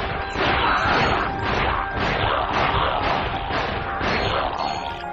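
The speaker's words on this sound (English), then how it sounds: "Throwing the wrench is so much fun." A wrench thrown repeatedly in the video game Ratchet: Gladiator lands a series of loud whacking, crashing hits, about one every second in a steady rhythm, forward and alone without speech.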